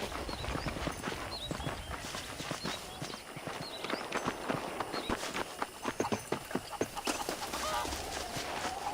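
Horse hooves clip-clop in the Western video game Red Dead Redemption, a close, steady walking rhythm of hoofbeats over a busy outdoor game ambience with no talk.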